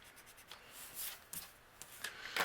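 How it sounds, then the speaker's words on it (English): A pencil eraser rubs across patterned paper on a handmade card, making a few quiet, close scratchy strokes in short bursts with brief pauses between them. "I'm actually going to erase my measurements here."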